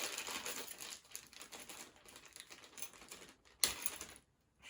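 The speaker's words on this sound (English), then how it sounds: "let's open another bag." A plastic parts bag from a Land Rover model construction set is torn open and handled, giving close, fast crinkling and rustling with small sharp crackles, then falling quiet near the end.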